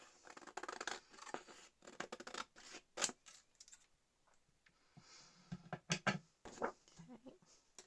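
Scissors snip and trim a handmade paper tag in short clustered bursts of crisp cuts, close and quiet, with brief pauses and faint handling rustle between strokes.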